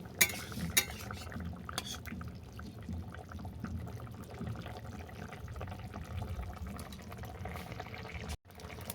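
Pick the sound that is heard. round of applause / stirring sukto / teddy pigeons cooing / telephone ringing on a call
stirring sukto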